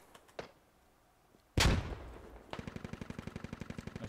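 Gunfire in the military shooter game Squad: a couple of faint distant shots, then a sharp loud blast followed by a steady rapid burst of automatic fire.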